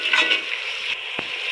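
Cumin and a small piece of cinnamon sizzle in hot oil while aloo methi is being cooked, giving a loud, close, continuous frying hiss with a light stirring scrape near the end.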